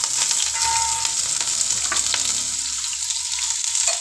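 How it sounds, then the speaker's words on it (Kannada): Onion, chillies, carrot, peas and capsicum frying in a couple of spoons of hot oil for masala Maggi noodles, a steady loud sizzle with occasional stirring scrapes, no talking. "ಬಟಾಣಿ ಕ್ಯಾಪ್ಸಿಕಮ್ಮು ಎಲ್ಲನೂ ಚೆನ್ನಾಗಿ ಫ್ರೈ ಮಾಡ್ಕೊಳ್ಳೋಣ"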